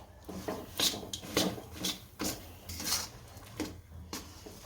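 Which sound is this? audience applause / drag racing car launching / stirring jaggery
stirring jaggery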